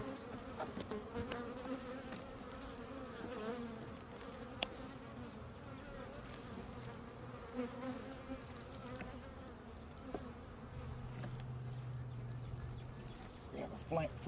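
Honeybees buzzing at a small hive entrance while bringing in pollen, a constant close drone of many wings, with a person talking softly over it.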